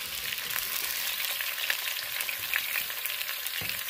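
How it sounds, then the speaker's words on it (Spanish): Tomatillos frying in a pan for jalapeño and tomatillo taquera salsa, a steady bright hiss of sizzling with soft stirring scrapes and a low thump near the end, no talking. "aquí le vamos a agregar los tomatillos. Y ahí vamos a dejar todo que se esté guisando."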